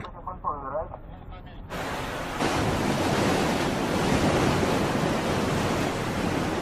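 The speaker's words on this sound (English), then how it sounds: "Huge pumps turn on. Water surges into the massive pool." Huge pumps surging water into a submarine dock pool give a broad roaring rush like surf that builds in two steps and then holds steady and loud. A brief voice is heard near the start.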